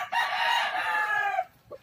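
A single close, loud crow from a Boston Roundhead gamecock, lasting well over a second and ending in a short cluck.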